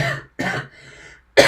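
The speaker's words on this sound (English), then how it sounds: "Cough warning." Two or three harsh coughs in quick succession, close and fairly loud, separated by a short quiet gap.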